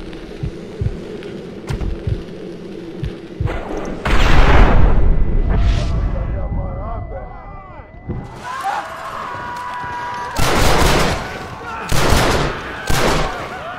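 Gunfire in the Red Dead Redemption video game: scattered shots and booming bursts, including a long rolling blast midway, with a voice talking and a tone and music behind it.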